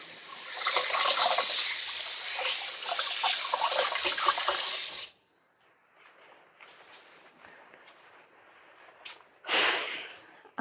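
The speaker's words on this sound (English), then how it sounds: "Let me just wash my hands" A kitchen tap runs strongly for handwashing, a close steady rush of water that stops abruptly, followed by faint splashes and rubbing, then a short burst of water again.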